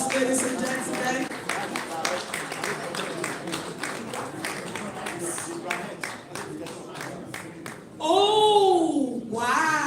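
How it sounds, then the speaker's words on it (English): Audience applause at the grand finale of an innovation challenge, steady clapping from a crowd, with a voice talking over it and a louder cheer near the end. "A round of applause, ladies and gentlemen."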